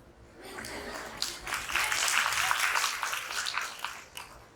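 An audience at a spiritual introduction camp session in Valukad, Gujarat breaks into scattered applause, a dense patter of hand claps that swells and fades over a few seconds, with some voices mixed in.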